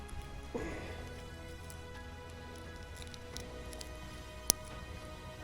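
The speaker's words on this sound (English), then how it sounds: "Maybe they're waiting for the rain to stop." Steady rain falls on a fishing wharf at Port Levy at night, a soft continuous patter with a few sharper drips and one brief knock, close and even throughout with no talk.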